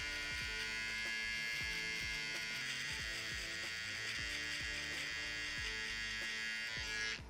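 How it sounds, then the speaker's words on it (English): Electric hair trimmer running steadily through a barber's V-fade haircut, a constant close buzz with rhythmic clicks and thumps from strokes against the head, no talk. "And I always run the trimmer through here"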